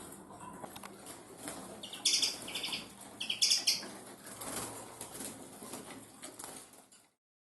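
Confiscated protected finches, taken from an illegal trapping site at Fort Ricasoli, flutter and chirp together in a room, with repeated bursts of wing flapping and small calls close by.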